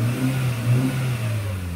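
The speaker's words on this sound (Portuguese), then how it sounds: "Se eu acelerar o carro" A Ford Fiesta Amazon engine with a dashboard fault revs steadily up close, its low mid-pitched drone holding loud and continuous through the short stretch with no talk.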